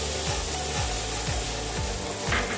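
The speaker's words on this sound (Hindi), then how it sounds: "तो ये अच्छे से भून गए हैं और प्याज भी हल्का ब्राउन हो गया है" Onions and kasuri methi frying for dal tadka make a soft continuous sizzle while a spoon scrapes the pan in regular strokes, roughly every half second, close by with no talking.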